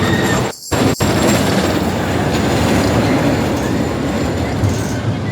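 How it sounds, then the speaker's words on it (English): A roller coaster train with older cars, on the newest coaster at California's Great America, running on its track with a loud, steady roar and rumble throughout. A brief dip comes just after the start. "This is the newest coaster in the park, but the trains aren't very new."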